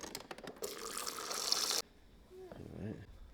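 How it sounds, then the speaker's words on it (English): Water runs from a tap into a drink mixed from several scoops of powder, a loud continuous pour that stops abruptly partway through, followed by a few quieter clinks. "I'll mix that with as much water as I can"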